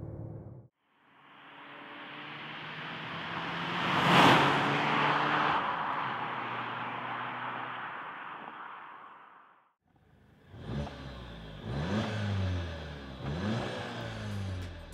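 A 2015 Skoda Octavia RS with the GTI engine and optional in-cabin sound generator, heard from inside as it revs up hard through a long gear, then shifts and accelerates again in rapid climbing pulls, loud and close.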